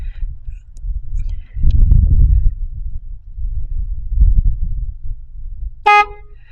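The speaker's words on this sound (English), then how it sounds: "What we're doing is we're bypassing the switch. In this case, it would be the horn on the steering wheel." A car horn gives one short, loud honk near the end, set off by bypassing the steering wheel horn switch during a fault diagnosis; a low, uneven rumble of handling fills the time before it.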